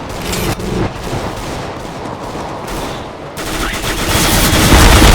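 Rapid bursts of gunfire in Counter-Strike: Global Offensive, dense and continuous with overlapping shots, loud throughout and growing heavier toward the end, with no one talking.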